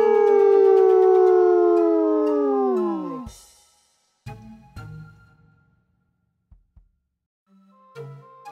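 A Grizzimals character gives a long, loud sustained howl that slides downward and fades out, followed by scattered short thuds and faint sounds after a brief silence.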